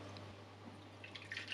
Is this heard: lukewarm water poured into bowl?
yes